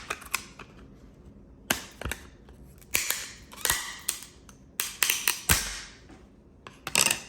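A plastic graded sports card slab is pried open, giving irregular sharp cracks, snaps and clicks in close bursts separated by brief quiet pauses.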